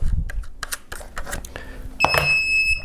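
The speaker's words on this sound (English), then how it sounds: "Oh, that's what happens when you set your metal detector down on metal." A metal detector set down on a metal surface lets out a sustained, piercing electronic beep tone that cuts in after some soft handling clatter and knocks.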